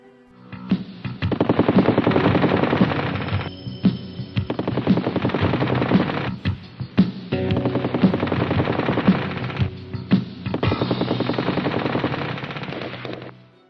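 Rapid machine-gun bursts from the six guns of an F-86 Sabre jet fighter, loud and close, fired in several long rattling strings separated by brief gaps, with no talk.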